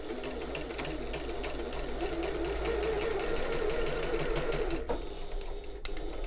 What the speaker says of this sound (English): we're going to sew that using 1/4 inch or 6mm seam allowance, using our regular stitch length